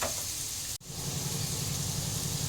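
Boiled jackfruit seeds fry with potatoes in a pan, a steady close sizzle that dips briefly for a moment before continuing evenly.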